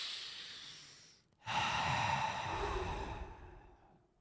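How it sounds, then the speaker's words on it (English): People breathe out during a Zen breathing exercise, a long airy exhale fading to a brief pause, then a stronger, forceful breath out with a snort-like rush that tapers away, close and without speech. "You got to breathe all the way out, too."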